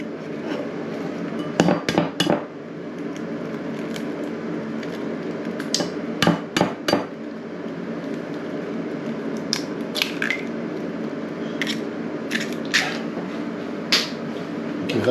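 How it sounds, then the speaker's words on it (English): Two eggs cracked into a bowl while preparing a roast tomato, basil and parmesan quiche: several sharp, close clicks and taps of shell on the rim come in small bursts across a steady low background, with no talking. "I'm going to crack eggs into here"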